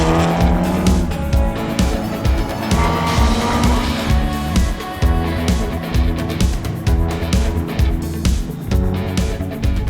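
A built Audi B8 A4 on a race track during a track day, its turbocharged engine droning steadily and loud throughout, with shifting engine pitch and bursts of tire noise, no voices over it.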